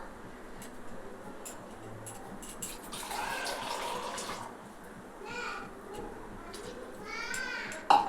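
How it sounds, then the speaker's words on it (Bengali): Water poured into a pot of chicken curry on the stove makes a soft, steady splashing rush that swells in the middle. A brief voice is heard near the end. "জল দিয়ে দিচ্ছি"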